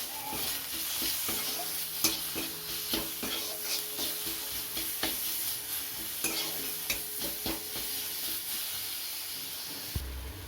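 Tomato frying in a little oil with a dried chilli tempering, salt, turmeric, sugar and Kashmiri chilli powder: a steady close sizzle and hiss broken by regular scraping taps of a stirring spoon.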